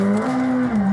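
McLaren 765LT supercar accelerating hard, a loud continuous engine note holding steady and close for a second, with a brief dip as the pitch shifts near the end and tire noise underneath.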